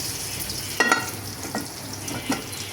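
Chopped onions frying in a pan for a chickpea curry, starting to burn, give off a steady close sizzle broken by a few sharp stirring scrapes, with no talking.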